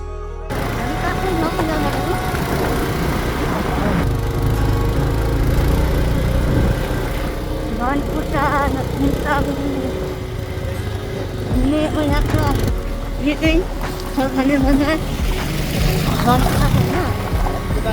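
Motorbike engine humming steadily during a ride toward Dhankuta Sidhuwa Bazar in Nepal, a constant close drone running under frequent talking from the riders.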